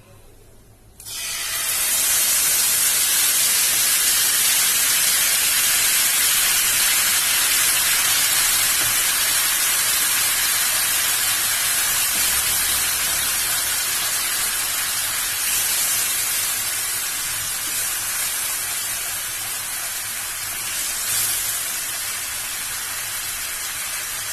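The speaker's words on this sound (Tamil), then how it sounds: "புளி நல்லா கரைச்சி வச்சிருக்கேன். அதை ஊற்றிக்கலாம்." Dissolved tamarind water hits a hot pan with a loud, sudden hiss that settles into a sustained, steady sizzle for over twenty seconds, close and continuous.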